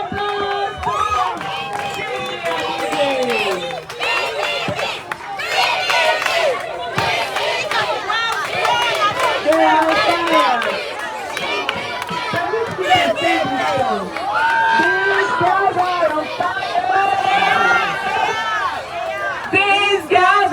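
Lively crowd of children at a school campaign event, cheering, shouting and chattering excitedly with some clapping mixed in, loud and close for the whole stretch, full of overlapping high-pitched voices.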